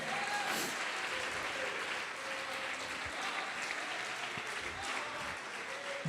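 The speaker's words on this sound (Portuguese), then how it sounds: "Pode aplaudi-lo e glorificá-lo." A church congregation applauds steadily, a dense wash of clapping that holds at an even level throughout, with no single voice standing out.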